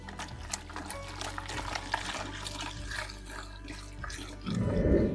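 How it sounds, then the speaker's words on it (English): Hot water poured into a batch of peach, lychee, ginger, lemongrass and coconut mead, a soft pour that swells into a louder rushing splash at the end, with faint clinks and handling noises. "We are going to add some more hot water to this."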